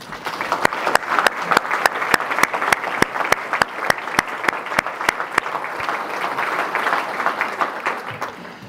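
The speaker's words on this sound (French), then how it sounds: "Alors je vous propose de vous applaudir." A hall full of people applauds at a municipal New Year's wishes ceremony in Brétigny, producing sustained, dense clapping with a few sharp, louder claps standing out in a steady rhythm over nearly nine seconds.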